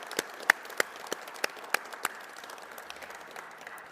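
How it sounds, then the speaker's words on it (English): Scattered applause from an audience at a fall commencement ceremony for a school academy, sparse individual claps rising out of a soft, fairly distant crowd wash, thinning out toward the end. "Definitely a round of applause for what you do."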